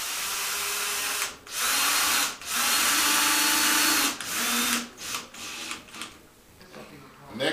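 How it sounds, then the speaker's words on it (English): Power drill whirring at low speed in sustained bursts, driving screws while installing a door lockset, with brief stops and restarts, loud and close, with a faint voice underneath. "Make sure your drill is on low speed because you don't want to strip the screws on the lock"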